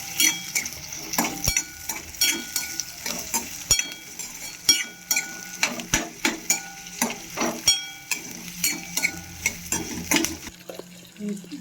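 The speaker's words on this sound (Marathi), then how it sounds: "मी 7-8 काजूचे तुकडे घेतले आणि ओला खोबरा घेतलेले, तर चांगलं असं भाजून घेते" Cashew pieces and fresh grated coconut roast in a pan, stirred with a utensil that scrapes and clicks in a quick irregular rhythm over a faint sizzle, close and distinct, no voices.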